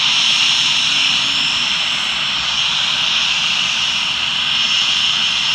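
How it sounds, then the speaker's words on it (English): A small plane flies over near an airfield in Boulder, Colorado, giving a loud, steady engine drone that holds evenly for the whole clip with no talk. "There are small planes flying out of it."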